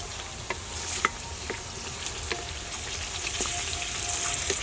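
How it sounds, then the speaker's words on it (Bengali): Duck curry cooking in a pan, with a steady frying sizzle and occasional soft scrapes and clicks of stirring after water is added; moderate level, no voices. "জলটা দেওয়ার পর একটু নেড়ে দিতে হবে"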